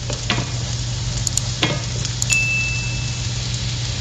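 Ginger and garlic sautéing in a pan for a sardine soup, a steady close sizzle with light stirring scrapes and a few clinks over a low hum.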